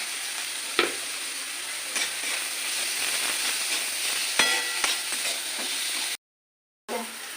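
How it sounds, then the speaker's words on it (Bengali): Onions frying in oil in a pan to a reddish brown, giving a steady close sizzle and hiss broken by a few sharp spatula scrapes, with a brief dropout near the end; no one speaks. "পেঁয়াজটাও আমি লাল লাল করে ভাজবো"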